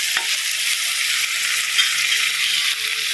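Carrot pieces frying in a pan give a steady, close sizzle of fine crackling without pause, with no talking, while the vegetables sweat for carrot and beans rice.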